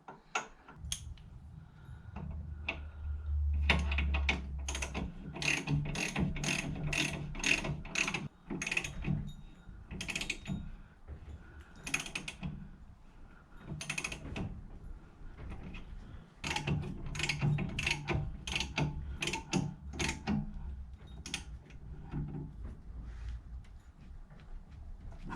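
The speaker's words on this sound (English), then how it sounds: "So I need to get the bottom bolts in now. The long bolts." A ratchet wrench tightens the long bottom brake bolts on a Triumph TR7, its rapid clicking pawl coming in repeated close bursts over low mechanical clunks and handling noise, with no talking.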